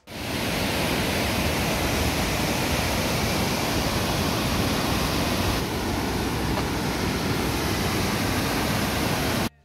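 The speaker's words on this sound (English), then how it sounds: "there's another really nice water dam and waterfall." A waterfall at a water dam in Bala, Muskoka, gives a loud, steady, close broadband roar that continues without a break. No voices are heard.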